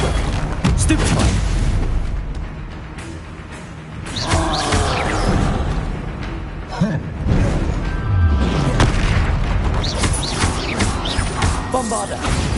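Spell blasts in Hogwarts Legacy combat, a string of heavy booms and crashing impacts over about twelve seconds, dense and loud, with game voices and effects layered throughout.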